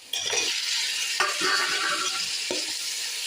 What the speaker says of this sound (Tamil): இஞ்சி பூண்டு பேஸ்ட் போட்டு நல்லா வதங்கி வந்துடுச்சு